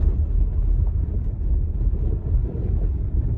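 A 2012 Audi A7 pushes through slushy, rutted snow, producing a continuous low, rumbling road roar with a washy, wind-like texture and no voices.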